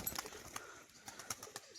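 Crested pigeons, including a white-and-green crested male, coo softly and faintly nearby in a couple of low murmuring calls with light rustling.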